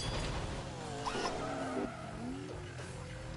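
A car skids with loud, wavering tire squeal over its engine roar. The squeal sweeps up and down for a few seconds and then eases into a lower drone.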